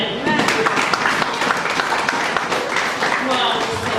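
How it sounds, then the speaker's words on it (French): Church congregation applauding in a dense, sustained burst of clapping, with voices mixed in throughout. "Est-ce que vous pouvez acclamer pour vous-même?"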